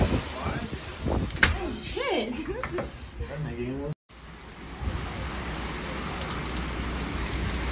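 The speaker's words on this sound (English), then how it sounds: "the wind's so strong it hurts my ears" Strong hurricane wind and driving rain from Hurricane Ida roar steadily and loudly, with a voice speaking over the storm in the first half.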